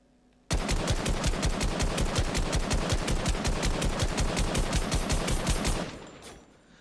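Fortnite assault rifle unloads in a long, steady automatic stream of loud, close shots, dozens of evenly timed cracks over about five seconds before trailing off.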